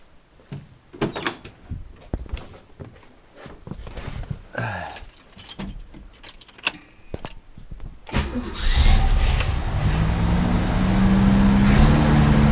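A 1964 Lincoln Continental fitted with an Edelbrock 1406 carburetor is started cold: keys and clunks first, then the engine catches abruptly and settles into a loud, steady, fairly high idle.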